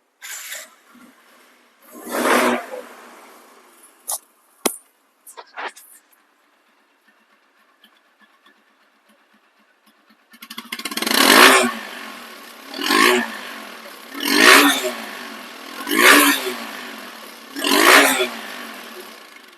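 A TVS Apache RTR 2V motorcycle, about five months old with 3,100 km, idles briefly, then gets five sharp throttle blips in a regular rhythm, each rising and falling loudly up close, after short clicks and a quiet pause.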